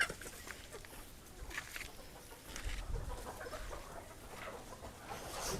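Desi country chickens on a poultry farm cluck in scattered short bursts over a low murmur of ambient noise, moderately distant and faint, with no talk.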